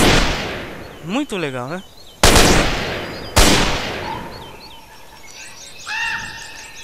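A few sharp gunshots from weapons in GTA San Andreas crack out in isolation, two loud reports spaced about a second apart, with someone speaking briefly before them and faint chirping tones afterward.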